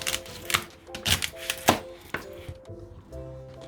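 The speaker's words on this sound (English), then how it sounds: "I just slice" A knife slices through washed celery on a cutting board, about eight crisp chops in an uneven rhythm, close and clear, with no talking.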